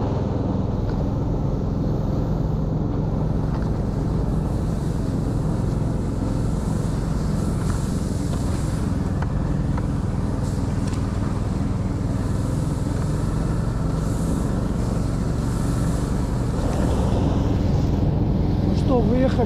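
Vehicle driving out onto a frozen taiga lake in winter, a steady loud engine drone and rumble with wind buffeting the microphone throughout, continuous and close with no pauses.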